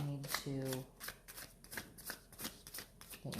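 Tarot cards being shuffled and drawn give a dense, close riffling whose brisk bursts repeat across the moment, running beneath a voice that speaks throughout.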